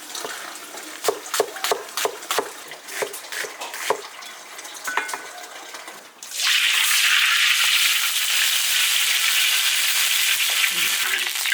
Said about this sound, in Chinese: 放入大料炸香。